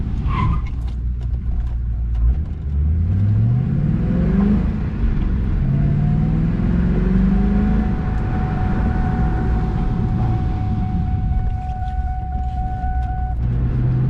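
A 2003 Ford Mustang GT with new Hawk rotors and pads drives on a test run, its engine rising in pitch through accelerations over steady road and tyre noise, loud and close throughout.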